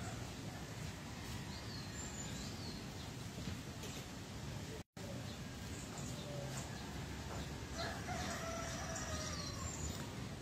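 A rooster crows at a distance amid steady background noise and other birds, after rain, with a brief dropout midway.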